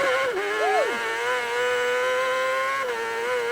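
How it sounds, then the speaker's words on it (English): A racing motorcycle at the Isle of Man TT revs high and holds a sustained whine, with the pitch rising and dipping briefly near the start as the rear wheel spins and breaks traction. "You see the revs dart up then as the bike was breaking traction and wheel spinning out of there"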